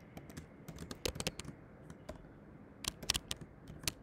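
Computer keyboard typing in short bursts of sharp clicks, with irregular clusters of keystrokes and brief pauses, close and fairly quiet, with no talking.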